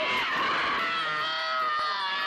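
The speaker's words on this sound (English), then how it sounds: "These screams are authentic." A woman's real scream of pain rings out while a horror film scene is shot, a sustained high wailing cry that holds for a couple of seconds, loud and strained, over a faint background.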